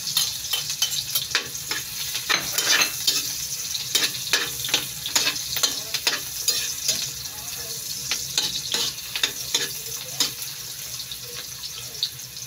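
Garlic sizzles in hot oil while stir-frying for adobong kangkong, a steady crackling fry broken by repeated scraping, stirring strokes of a utensil against the pan.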